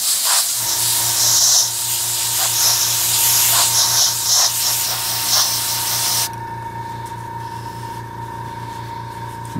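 Aerosol spray can hisses loudly while painting a Sturmgeschütz III Ausf B model, a continuous close spray with a low steady hum underneath, ending abruptly after about six seconds into a quieter room tone.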